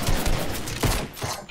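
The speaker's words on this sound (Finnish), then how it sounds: "Ei vitsi, meitä ammutaan." Rapid bursts of automatic gunfire in the Fortnite video game, loud and close, firing in clustered volleys with short pauses between them and no talking.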